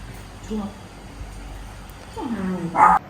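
A dog gives a few short whimpers and yips, close and moderately loud, with a longer whining call near the end in a quiet indoor space.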